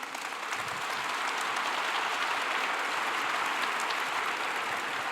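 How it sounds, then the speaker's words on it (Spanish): Congregation applauding in church during a sermon, a full, steady wash of clapping that swells in and holds evenly with no talk. "dale un aplauso al Señor"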